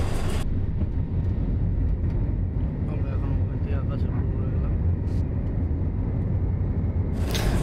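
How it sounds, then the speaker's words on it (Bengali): Passenger airplane taking off from the runway at Kolkata and climbing, a loud, steady low engine roar heard from inside the cabin and continuing unbroken throughout, with a faint voice in the background. "ভূমির থেকে বিমানটি আকাশের দিকে উঠছে"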